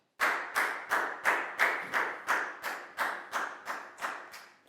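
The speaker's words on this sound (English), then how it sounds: "Big round of applause for bang bang" Rhythmic clapping in a primary-school English lesson: about eleven evenly spaced, sharp claps in a steady beat, fairly close and clean, with no talk over them.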